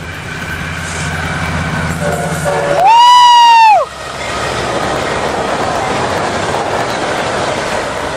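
Fast train barreling through Carlsbad Poinsettia station, a steady rumbling roar of passing cars with a loud horn blast sweeping down in pitch as it passes close by.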